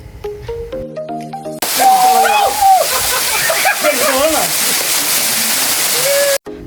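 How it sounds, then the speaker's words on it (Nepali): A small waterfall on a stream by the Saptakoshi River near Barahachhetra, Nepal, rushing loudly and steadily under excited voices, after a short burst of music at the start. "साथमा अलिकति माथि सानो एउटा झरना पनि थियो"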